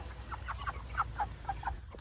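A meat-breed chicken hen clucks in a short series of soft, close, evenly spaced notes over a low steady background hum.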